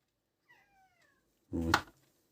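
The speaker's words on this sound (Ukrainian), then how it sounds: "Це в мене кіт рядишком м'явкає." A domestic cat meows nearby: a faint thin call first, then one loud, close, drawn-out meow standing alone in an otherwise quiet room.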